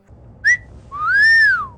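Two whistles: a short, high chirp followed after a brief pause by a longer tone that rises and then falls, clear and close against a quiet background.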